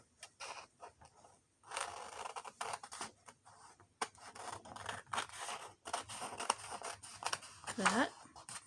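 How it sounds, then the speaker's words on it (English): Scissors snip through paper for a junk journal project, a series of short crisp cuts and rustles close by, broken up by brief pauses and handling noises, with no one talking. "I'm going to cut around the edges of it, like that."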